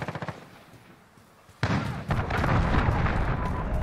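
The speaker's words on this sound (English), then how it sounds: "Enemy cruise missile incoming!" Heavy cruise missile strike in Call of Duty Modern Warfare, opening with a few sharp pops, then a sudden loud blast that rolls into sustained rumbling explosions and debris.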